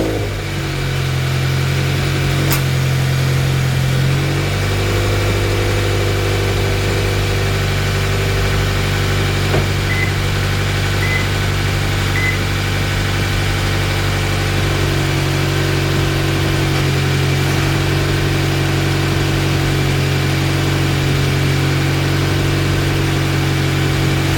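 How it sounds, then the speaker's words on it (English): A car engine runs at a steady idle with a low constant hum, a slight shift in tone early on and again midway, close and loud with no talking. "and now start my car and let it kill itself"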